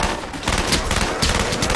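Rapid automatic fire from an upgraded G11 rifle in a zombie video game, two loud close bursts of fast repeating shots with a brief gap between them.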